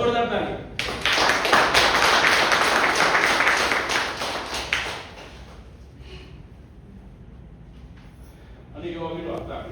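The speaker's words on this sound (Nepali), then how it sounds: "जोरदार ताली।" A class bursts into loud, dense applause for several seconds, the clapping then fading to scattered taps before a voice speaks briefly at the end.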